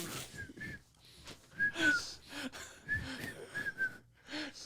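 A person attempts to whistle a song, producing several short, thin whistled notes broken by breathy gaps and faint vocal sounds, close and fairly quiet.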